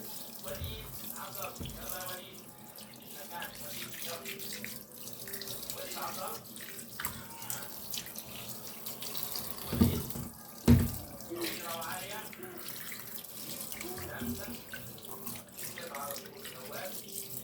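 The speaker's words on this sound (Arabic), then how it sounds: "فانا هديله شطه كمان كده معاكم" Running tap water pours steadily over a whole fish being rinsed clean in a kitchen sink after gutting, a continuous close splashing stream with a couple of brief louder clunks partway through.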